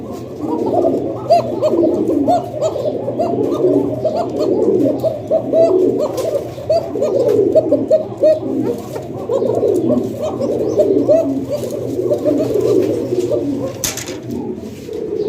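Fancy pigeons kept in pairs, cooing repeatedly in soft throaty rolling calls that overlap steadily for the whole stretch, close by, with faint background noise.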